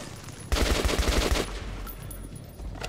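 Heavy guns fire in Metro 2033, a rapid burst of about eight close, punchy automatic shots lasting roughly a second, then ringing echo fading into ambience.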